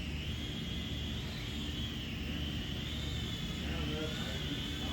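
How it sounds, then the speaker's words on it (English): A continuous high-pitched buzzing whine from a small drone, steady and fairly faint, its pitch shifting slightly as it flies. "Shop drone."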